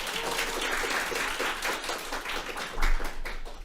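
An audience claps to open a welfare centre case-sharing event, with short steady applause that swells near the end and no talk over it.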